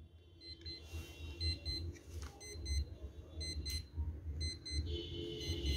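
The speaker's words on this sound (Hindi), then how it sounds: "इसका अलार्म भी चेक करते हैं जी" An alarm clock being tested rings with a steady run of repeating electronic beeps, fairly close and loud, with no talking over it.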